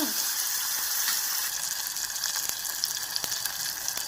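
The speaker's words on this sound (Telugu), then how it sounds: "ఇప్పుడు టమాటా ఎర్రగడ్డ వేసుకున్న ఆవాలేసి ఇది వేగినాక" Mustard seeds, tomato and onion frying in oil for a bitter gourd tamarind stew, a dense continuous sizzle with a few sharp crackles and clicks, close and fairly loud, no talking.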